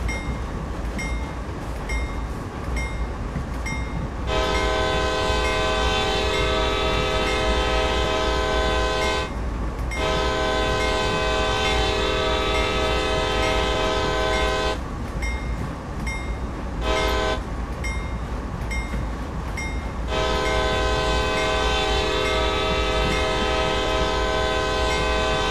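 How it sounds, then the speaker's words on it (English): Locomotive horn sounding for a railroad crossing in Train Sim World, several long, loud blasts with short breaks between them over a steady rumbling engine drone. "we will sound the horn for the railroad crossing."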